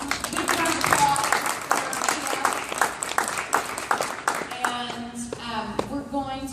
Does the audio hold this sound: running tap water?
no